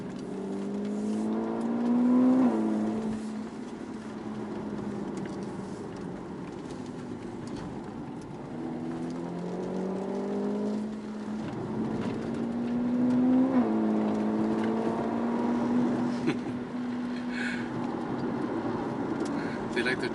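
Heard from inside the cabin, a car engine drones, and its pitch rises and drops several times as it accelerates and shifts, while someone talks over it.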